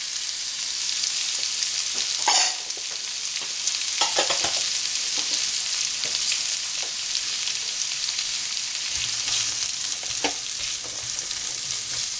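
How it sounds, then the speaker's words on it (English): Green pepper and onion sautéing in a pan for a ham and bacon hash, a bright continuous sizzle near at hand with occasional clinks and scrapes of stirring, no talk. "Now we're going to saute the green pepper"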